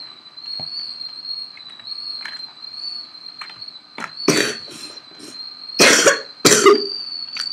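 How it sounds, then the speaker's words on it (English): A person coughs in a few harsh bursts close to the microphone, mostly near the end, over a steady high-pitched whine and faint background noise. "Sorry for my coughing."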